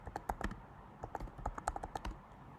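Keys clatter on a computer keyboard while someone types code for a Laravel e-commerce site, a brisk uneven run of close, crisp clicks with no one speaking.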